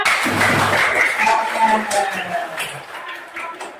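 A class of students breaking into many rapid claps together during a lesson clapping game, a dense, lively patter that stays fairly loud throughout, with some voices mixed in.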